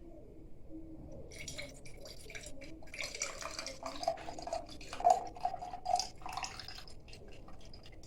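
Bitter orange juice poured into a washed, sterilized Nescafé glass jar, heard as a faint, quiet trickle with a few soft drips near the end and no talking.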